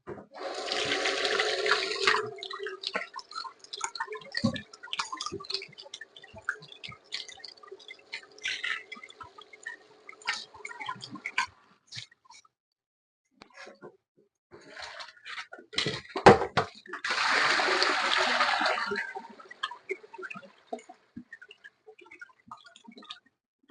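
Water runs at a kitchen sink during handwashing, two broad hissing bursts near the start and again later, with clatter of dishes, a pot and a skillet being handled in between.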